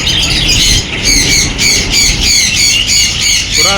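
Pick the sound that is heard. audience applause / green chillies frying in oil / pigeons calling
pigeons calling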